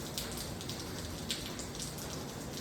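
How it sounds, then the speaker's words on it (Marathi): Steady rain falls throughout, a dense soft patter with occasional brighter drops standing out, fairly close and continuous with no voices. "रात्रभर पाऊस पडते, काय काम नाही त्या पावसाचं गणपती असून. हे बघा आता पण पडते."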